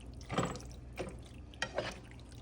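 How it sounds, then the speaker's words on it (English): Starchy pasta water is poured into a pan of eggplant Pasta alla Norma and stirred, heard as a few short sloshing and splashing bursts close to the mic against a low kitchen hum. "Pasta water and stir it."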